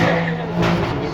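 A 6.2-litre supercharged V8 car roars past at a Goodwood Festival of Speed supercar run, a loud sustained engine drone that swells slightly partway through.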